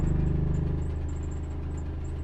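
A Nissan Tsuru sits in neutral and idles steadily after a keyless push-button start. Its engine gives a low, even hum with a faint rattle, close and unbroken throughout.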